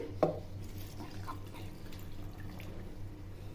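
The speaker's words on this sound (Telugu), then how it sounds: "అండ్ నెక్స్ట్ మిల్క్ పోసుకోవాలి." Milk is poured into a mixer jar that already holds cut mango pieces and ice cubes for a mango milkshake. It makes a soft, steady liquid trickle with one brief clink near the start, quiet and close.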